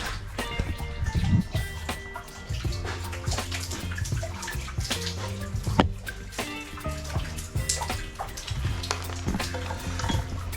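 A Konkan river in flood during heavy monsoon rain, heard as a loud, continuous churning rush of water with constant splashing and gurgling bursts close by.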